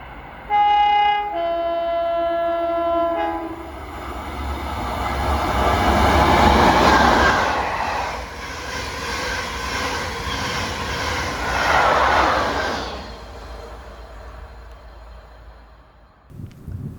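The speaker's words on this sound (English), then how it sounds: "1Z32, the 1611 from Glasgow Central to Crewe, passing here at Uddington at 1621 with" Passenger train 1Z32 led by electric locomotive 87002 passes at Uddington, opening with a loud two-tone horn blast, then a rising roar of wheels and carriages swelling past close by before fading away.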